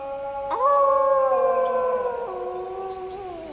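Wild dogs howling, a long mournful wail that rises sharply then holds and slowly slides down, with fainter higher cries layered on top.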